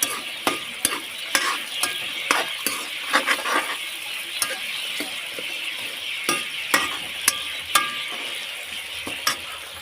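Vegetables with carrot stir-fry in a pan, a steady hot sizzle under frequent sharp scrapes and clinks as a utensil flips and turns them, close and fairly loud, no voices.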